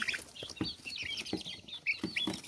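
Barred Rock chickens cluck softly and repeatedly while pecking at greens, several short clucks close by over quiet background.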